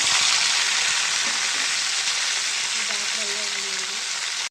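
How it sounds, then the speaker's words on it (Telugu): Coriander and green chillies fry in hot oil in a kadai, giving a loud, continuous hiss and crackle that holds steady throughout and cuts off abruptly at the end. "ఆయిల్ వేడయ్యింది ఈ ఫ్రై చేసుకుందామండి"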